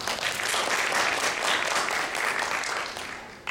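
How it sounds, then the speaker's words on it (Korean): An audience at a knowledge-base and AI conference applauds, a full, even burst of many hands clapping that holds steady before tailing off, with no talking over it. "박수 부탁드리겠습니다."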